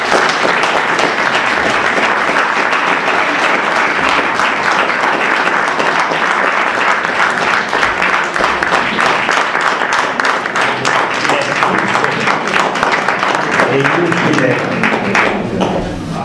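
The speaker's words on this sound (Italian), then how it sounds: "non volevo assolutamente interrompere l'applauso delicatissimo al professore" A large audience at an annual assembly applauds a professor, loud continuous clapping filling the room throughout with a murmur of voices beneath.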